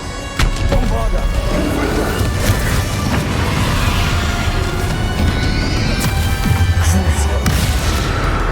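A Bombarda spell explosion in Hogwarts Legacy, heard as a loud, dense, sustained blast with crashing debris and rumble filling the whole stretch, with battle voices mixed in.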